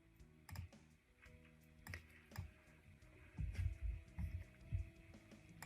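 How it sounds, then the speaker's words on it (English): Keystrokes on a computer keyboard tap out a message in irregular bursts, close and fairly soft over a low electrical hum, with no voices. "I am going to be typing a message to my instructor, Jim"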